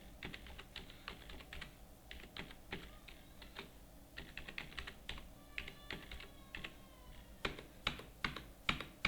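Typing an email address on a computer keyboard while filling in company details in accounting software: steady bursts of close, crisp key clicks, with brief pauses and a few louder strokes near the end.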